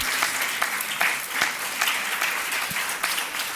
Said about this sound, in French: il est important de l'applaudir